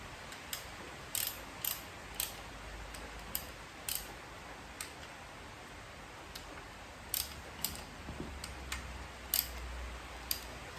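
Ratchet wrench with a 1/2 inch socket clicks in scattered short bursts while tightening con rod bolts on a Holden Grey Motor engine, close and fairly quiet, with no talking.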